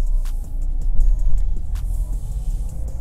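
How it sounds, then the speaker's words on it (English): A manual-transmission car pulls away as the clutch is released, its engine a steady low rumble close by, with faint clicks and rattles over the drone and no talking. "Take our foot off of the brake and press the gas slowly while slowly also releasing the clutch."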